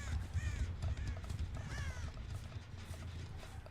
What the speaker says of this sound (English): I think I saw a crow.